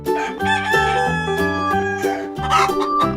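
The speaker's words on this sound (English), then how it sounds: "Rooster." A rooster crows on a farm against steady backing music with a beat, the call fairly loud and close.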